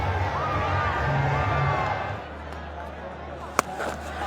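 A cricket stadium crowd cheers in a broad, sustained roar at a PSL match between Islamabad United and Quetta Gladiators, with a commentator talking over it and a sharp knock near the end.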